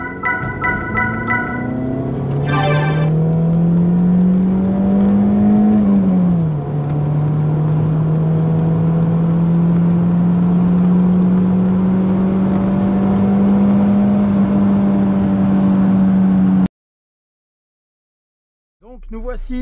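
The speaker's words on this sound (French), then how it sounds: "on va peut-être être dérouté par le niveau sonore et la qualité sonore de ce 4 cylindres" A 1994 BMW 318is E36 Class II Motorsport four-cylinder engine drones steadily from inside the car while driving, with a rising rev and a shift near the start and a sustained hum that cuts out abruptly near the end.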